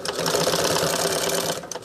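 A sewing machine stitches fabric in a steady, rapid mechanical whir that runs close and alone, then slows and stops near the end.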